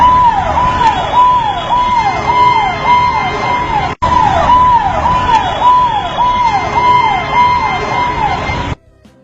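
An ambulance siren wails loud and close in a steady, repeating up-and-down cycle for about nine seconds, with a brief break midway, over a low traffic rumble.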